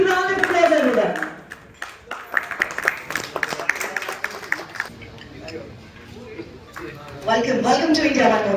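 A crowd at an electronics industry partnership event bursts into applause for a few seconds in the middle, a loud flurry of claps framed by someone speaking before and after.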